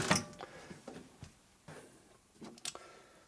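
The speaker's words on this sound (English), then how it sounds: "this appears to be a right foot trigger. So this is what energizes the machine. That engages the belt over there and makes it go boom, boom, boom" A belt-driven honing machine for rebuilding connecting rods on a 45 ci WL/WLA engine is engaged by a foot trigger, giving faint, irregular mechanical clicks and knocks with ratchet-like ticking in a quiet shop.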